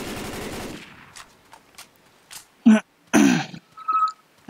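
Shooting in the video game Left 4 Dead 2: a few short, sharp bursts of gunfire after a noisy start, separated by quiet gaps, fairly close and loud.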